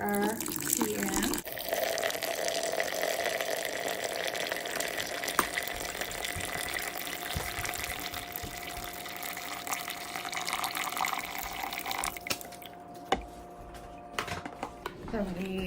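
Tea pours steadily into a pitcher holding sugar, a continuous splashing rush with faint clinks, ending with a few soft knocks.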